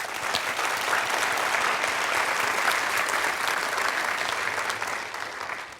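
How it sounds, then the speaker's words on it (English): An audience at a town hall meeting applauds, a dense, sustained clapping from a crowd that stays loud and even for several seconds before tapering off at the end. "help me recognize that, applaud the great work."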